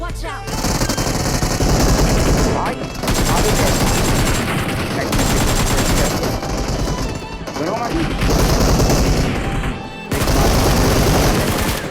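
Sustained automatic fire from an M416 rifle in a battle royale video game comes as long, loud rapid bursts separated by brief pauses, dense and close throughout.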